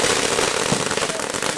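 A strobe pot firework going off at a camp firework display, giving a loud, dense, continuous crackle of rapid pops close by.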